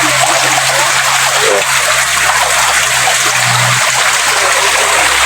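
Spring water flowing in a stream at Maragaya, a steady, close and loud rushing wash with a fine trickle running unbroken throughout and no voices.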